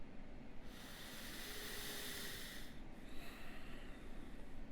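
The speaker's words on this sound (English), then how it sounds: "And then breathe." A single slow, deep breath, drawn in and let out near the microphone as a long airy hiss that swells and fades, followed by a softer second exhale in a quiet room.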